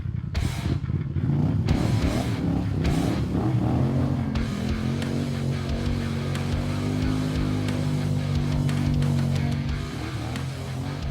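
A High Lifter Sportsman XP1K ATV engine with an MBRP aftermarket exhaust idles, then revs with a throaty, rumbling exhaust, holding a steady drone for several seconds, close and fairly loud.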